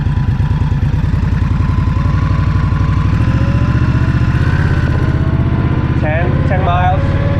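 An Indian Scout Bobber motorcycle pulls away and accelerates, its loud, steady engine pulsing close by with rising pitch through the gears, while someone talks over it near the end.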